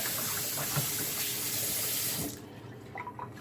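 Cold tap water pours steadily into a sink over freshly cut pan fish fillets being flushed clean, a constant splashing stream that cuts off abruptly, leaving a few faint drips and handling sounds.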